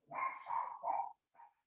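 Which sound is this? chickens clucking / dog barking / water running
dog barking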